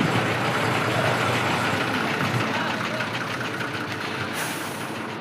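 A Rajahmundry bus engine idles and rumbles steadily up close, a continuous broadband drone that eases slightly over time, with a brief hiss near the end.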